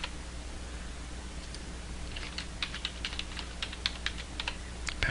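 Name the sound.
typing a password on a computer keyboard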